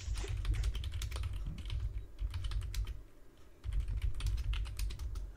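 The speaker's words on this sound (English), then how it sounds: "I can hear typing" Someone types on a computer keyboard, producing rapid, irregular clicks and clatter at a quiet level, with brief pauses between short bursts. No one speaks.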